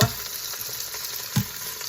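Korean short ribs sear in an Instant Pot with a steady, close oil sizzle, broken by two soft clunks as the meat shifts in the pot.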